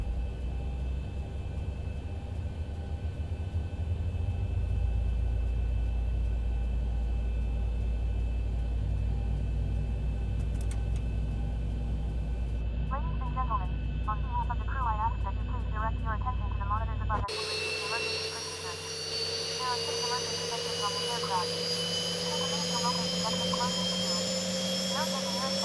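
A Boeing 737-800 jet engine spooling up during engine start in the X-Plane 11 flight simulator, a steady rising whine and rumble that shifts to a higher, louder tone partway through, with cockpit chatter in the background.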